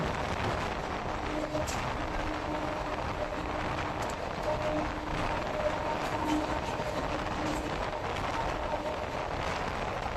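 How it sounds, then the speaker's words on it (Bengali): A Sealdah–Diamond Harbour galloping local train speeds through Baghajatin station at about 100 km/h, giving a steady loud rumble and rushing wheel noise throughout, heard from inside the moving train. "বাঘাযতীন স্টেশন স্কিপ করছে, দেখুন 100 কিলোমিটার গতি নিয়ে।"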